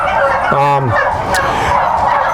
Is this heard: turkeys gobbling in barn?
yes